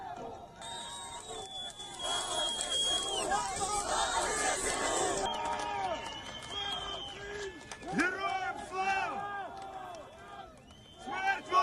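Large crowd cheering and shouting as soldiers arrive in the city of Kherson, a dense, loud roar of voices with scattered whoops and calls rising and falling throughout.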